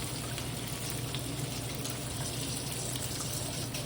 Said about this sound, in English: Washing my hands off.